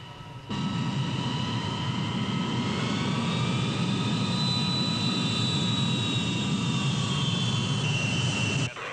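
Jet airliner engines running at high power before takeoff in a 1985 film, a steady loud roar with whining turbine tones that slowly shift in pitch, continuous for about eight seconds with no talk.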